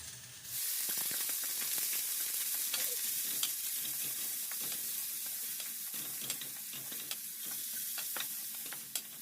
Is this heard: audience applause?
no